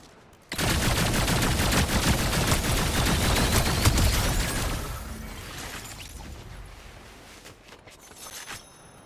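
Rapid automatic gunfire from a weapon in Fortnite, a dense loud burst of shots running for several seconds before tapering into scattered quieter pops and fading echoes.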